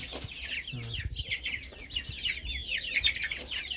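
Rhode Island Red chickens, an imported hybrid breed raised on a farm, cluck and chatter in a steady overlapping chorus, close by with no talk.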